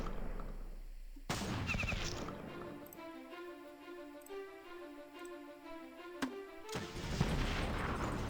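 Shotgun blasts and impact effects in the turn-based war strategy game Battle Nations, a sharp onset followed by sustained, layered tonal game sound with a few clicks, moderately loud and without speech.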